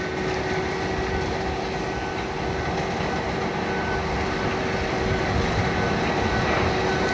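A tracked cutter machine works on wet ground among trees on a windy day, producing a continuous, even mechanical drone with a faint steady whine and no breaks.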